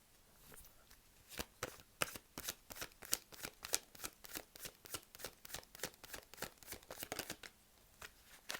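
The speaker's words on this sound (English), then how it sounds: "Let's pull another card." Tarot cards being shuffled and drawn during a psychic reading: a quick run of crisp riffling snaps and slides, close and fairly quiet, coming in an irregular rapid rhythm with no talking over them.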